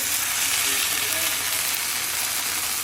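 A tortilla dipped in birria sauce frying in a hot pan, giving a steady, close, even sizzle that holds throughout with no talking.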